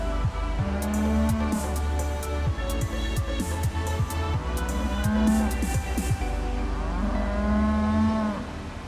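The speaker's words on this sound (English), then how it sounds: "and they're very noisy cows." Cattle lowing in a field beside the Leeds and Liverpool Canal, several loud, close moos in overlapping succession over a steady outdoor rumble.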